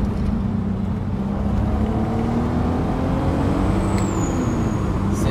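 A 2003 Audi TT MK1 V6 with an automatic gearbox accelerates hard in sport mode, its engine note climbing as a steady, loud rumble heard from inside the car.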